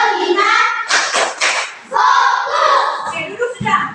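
Schoolchildren in a classroom clap sharp rhythmic patterns together between loud group chanting, a few crisp unison claps standing out from their voices.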